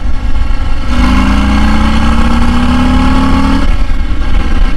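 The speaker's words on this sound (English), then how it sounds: "Let's do a pull from third gear here." A 2023 Harley-Davidson Low Rider ST motorcycle pulls hard in third gear, its loud, close engine note climbing steadily in pitch for about three seconds before easing off, with no talk over it.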